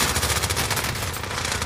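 Rapid automatic gunfire in a video game, a dense, loud, continuous rattle of shots lasting under two seconds with no talk.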